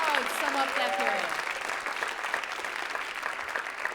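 Audience applause at a school writers' week event, steady dense clapping from a crowd that continues evenly and close, with a voice speaking briefly over it at the start.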